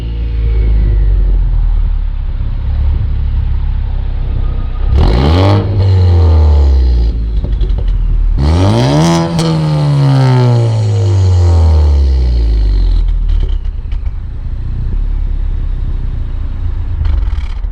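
A 2016 Ford Focus ST engine revs hard twice, each blip climbing and then falling away, over a constant deep exhaust rumble, loud and close with no talking.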